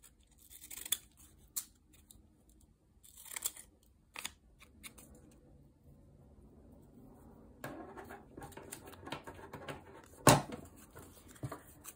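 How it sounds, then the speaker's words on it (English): Scissors snip through paper to trim handmade faux vintage postage stamps for a junk journal, giving several close, crisp cuts with a sharp snip near the end, surrounded by quiet handling rustles. "Let me just cut this a bit shorter."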